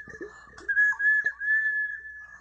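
A clear, sustained whistling tone from a whistling vessel, sounding in a few held notes with brief breaks, close and fairly loud, alone.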